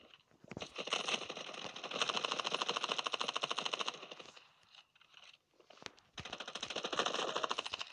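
Automatic gunfire from the Standoff 2 shooter game comes in long, rapid rattling bursts separated by brief pauses, fairly quiet overall.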